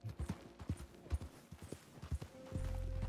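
Hooves clip-clop in the video game Red Dead Redemption 2, a steady run of close, distinct footfalls at walking pace, before a low steady drone sets in near the end.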